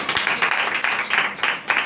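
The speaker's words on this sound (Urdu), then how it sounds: "خداوند یسوع المسیح کے جلال کے لیے ایک بار زوردار تالیاں" A church congregation applauds to the glory of the Lord, the clapping coming in uneven bursts that swell and dip, moderately loud and fairly close.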